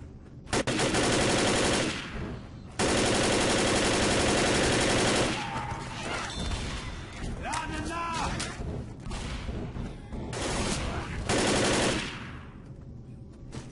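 Gunfire from the video game Left 4 Dead, fighting toward the terminal: two long, loud bursts of rapid automatic fire, then scattered shots and thuds, then another sustained burst before it tapers off.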